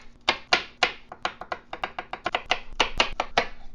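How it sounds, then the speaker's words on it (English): A knife roughly chops two peeled garlic cloves on a cutting board, sharp close taps falling in a quick, uneven rhythm that speeds into a dense flurry of chops. "Peel and roughly chop 2 cloves of garlic."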